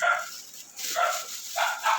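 A dog barks three times in short, evenly spaced bursts, close by and moderately loud, with no other sounds between the barks.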